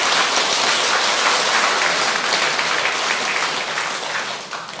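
A hall audience at a Buddhist dharma lecture breaks into dense, rain-like clapping, loud and even throughout before tapering slightly at the end.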